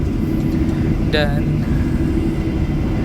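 A CC206 diesel locomotive hauling the KA Bima express accelerates, heard from inside the first executive car directly behind it as a heavy, steady low roar, with a voice speaking briefly over it.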